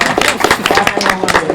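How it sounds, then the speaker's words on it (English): Brief burst of outdoor clapping from an audience at a Cape Verdean flag raising in New Bedford, a close, busy patter of hands with scattered voices mixed in. "Clap for that?"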